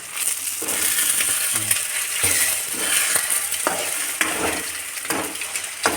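Eggs frying in a pan for fried rice, a continuous loud sizzle broken by repeated scraping and tapping strokes of a spatula as they are stirred.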